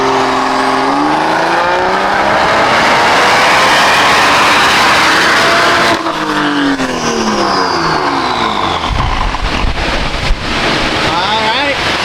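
A Toyota Supra's inline-six engine revs hard on a dyno, a loud rising wail that climbs for several seconds, then drops away with whining and fluctuating tones under wind-like noise and brief voices.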